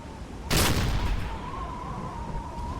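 Submarine deck gun firing on a ship in Silent Hunter III, one loud booming shot with a long rumbling decay, over a steady background hum.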